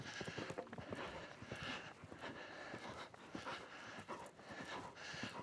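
Horse named Storm, a young event horse, cantering in training: rhythmic clip-clopping hoofbeats with snorting breaths, close and steady over a few seconds, quite faint overall.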